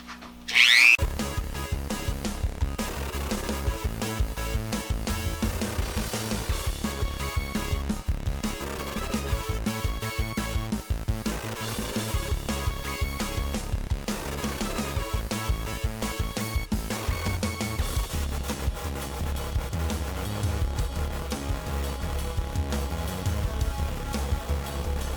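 A small Dremel rotary tool fitted with a rubber wheel grinds the inside edges of a reamer, giving a continuous high whine with a steady buzzing drone and scraping contact noise that starts abruptly and runs loud and unbroken throughout.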